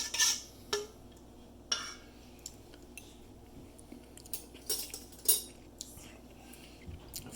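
A metal spoon clinks and taps against a dish while vinaigrette is tasted, sounding as scattered short, bright clicks close by over a quiet room.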